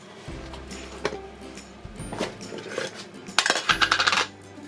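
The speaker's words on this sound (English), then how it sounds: "If I can undo the lid." A lid is worked loose on a container of seven-seed blend, giving several close clicks, clatters and rattling seed sounds in short bursts, ending in a louder rattling flurry.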